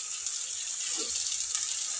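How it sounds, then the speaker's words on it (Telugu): Tap water runs steadily into a sink while cut potatoes are washed, a soft continuous hiss with a faint splash or two, fairly quiet and close. "ముందుగా కట్ చేసిన ఆలుగడ్డలు అయితే నేను కడిగేసి వేస్తున్నాను"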